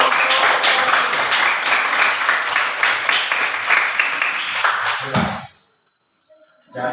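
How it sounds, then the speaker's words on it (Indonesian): A class applauds a student discussion group, many hands clapping briskly and loudly for about five seconds before fading into near silence, with a brief sound at the very end. "tepuk tangan untuk kelompok"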